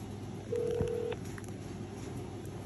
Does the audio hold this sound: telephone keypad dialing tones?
yes